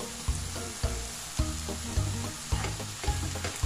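Mushrooms fry in a pan with a steady, close sizzle, punctuated by about seven regular thumps and scrapes of stirring after salt is added.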